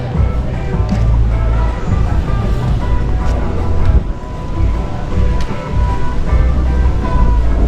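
Steady roar of surf at Sanur beach in Bali, waves washing in continuously with heavy low rumble and buffeting wind noise, loud and close with no break.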